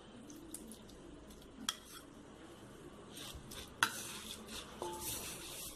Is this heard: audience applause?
no